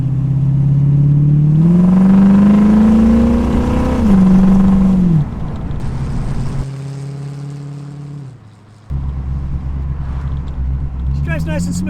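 A 1972 Datsun Spyder with a V8 engine and four-speed transmission revs up with a loud, rising engine note, drops back, then settles into a lower drone, with some talk over it.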